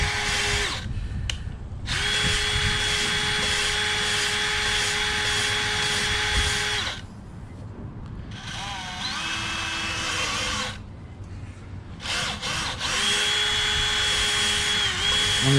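A drill lapping an engine valve into the cylinder head of a 1955 Chevy, its steady whine running in long bursts with brief pauses, close and loud throughout.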